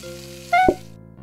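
Fish cooking on a stove in the game PlateUp!, a brief bright cartoon sizzle with a tonal chime-like blip, short and clear over a soft musical background.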